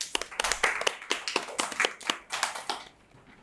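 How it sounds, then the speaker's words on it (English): Audience applause at a junior public speaking competition, a burst of sharp separate claps from a modest crowd that thins out and fades over about three seconds, with no talking. "Round of applause."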